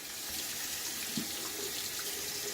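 Water runs steadily from a tap to rinse a Gillette Aristocrat safety razor, a close, continuous broadband hiss and splash with no talk.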